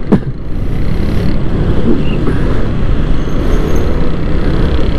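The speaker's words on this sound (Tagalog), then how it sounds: "Sobrang traffic, grabe." Dense, loud roadway traffic rumbles continuously, cars and heavier vehicles blending into a steady wash of engine and tire noise with no speech.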